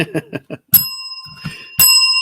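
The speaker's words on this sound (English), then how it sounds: "I'll give you a bell for that." A bicycle bell rings twice, each ring clear and bright with a lingering metallic tone, preceded by a few short soft knocks.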